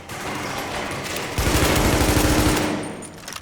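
Light machine gun fire in the shooter game The Division: a steady background rattle gives way to a loud, rapid sustained burst of automatic shots, close and without talk, then fades out.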